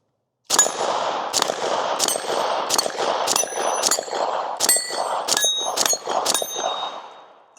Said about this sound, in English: let's go ahead and shoot some steel